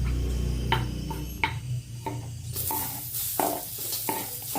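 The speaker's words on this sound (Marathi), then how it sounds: "आता आपण कांदा टाकणार आहे भाजायला कांदा" Onion going into hot oil for a Marathi amti curry, giving a steady loud sizzle with intermittent scraping and stirring knocks from a utensil against the pan throughout.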